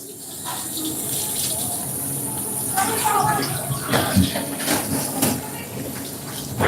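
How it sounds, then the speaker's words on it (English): Cold tap water runs steadily over food being rinsed in a busy work kitchen sink, a continuous splashing hiss with irregular louder spatters toward the end. "All right, let's get that rinsed in some cold water."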